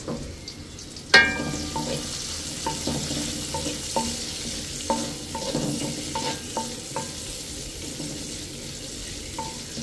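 Oil frying in a pan while cooking biryani, a continuous sizzle with a sharp clatter near the start and a series of light scraping, stirring knocks scattered through the rest.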